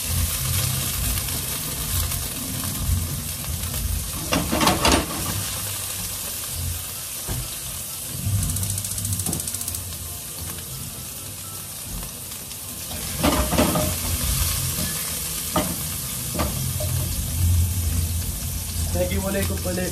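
Garlic sizzles in hot oil in a pan for a coconut-milk shrimp dish, a steady hiss broken by scraping stirs and clatters of the utensil, with a voice talking over parts of it.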